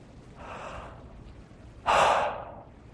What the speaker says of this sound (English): It's just like you're breathing out,